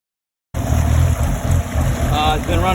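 Honda BF75D/BF90D outboard motor running rough at full throttle, a loud close engine drone starting abruptly with an uneven, surging rhythm and splashy water noise, a voice faintly under it.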